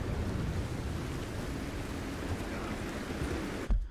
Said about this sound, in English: Oh, it's raining hard.